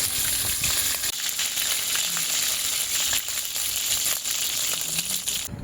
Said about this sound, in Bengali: এইভাবে ভালো করে সব চিকেনগুলো ভেজে নিতে হবে।